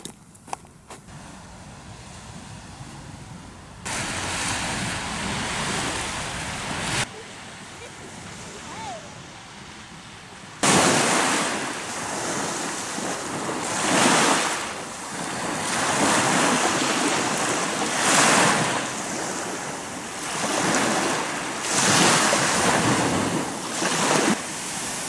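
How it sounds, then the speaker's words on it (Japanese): Ocean waves break and surge onto the beach at Nijigahama in Hikari, Japan, at dusk, with loud rolling crashes repeating every few seconds, wind noise, and a few brief voices. "波音すごいです。"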